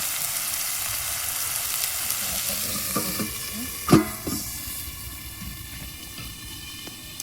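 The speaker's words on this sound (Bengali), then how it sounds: "এটাকে এখন ভালো করে কষিয়ে নেব" Bottle gourd with prawns sautés in hot oil in a pan, village-style on the bank of the Jamuna river, a steady close sizzle with a few sharp stirring clinks and scrapes partway through.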